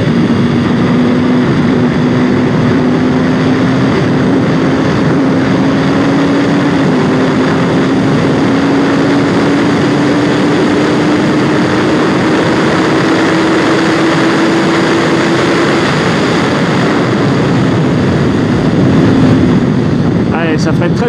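A 2021 BMW S 1000 R roadster motorcycle engine roars steadily on a race track down the pit straight. Its loud, continuous drone rises slowly in pitch under heavy wind rush.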